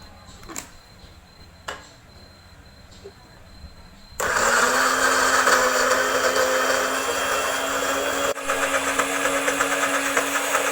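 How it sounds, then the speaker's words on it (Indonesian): A blender grinds orange peel into a paste for a fruit-waste bio-battery, switching on abruptly with a loud steady motor whine that holds for several seconds, after a few faint knocks in a quiet room. "selanjutnya kita akan haluskan kulit jeruk hingga menjadi pasta"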